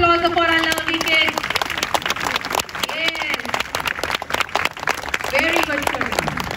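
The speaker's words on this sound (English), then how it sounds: "huge round of applause for our lovely kids" Applause for children at a school sports day, a crowd clapping steadily in the open air throughout, with someone talking over it.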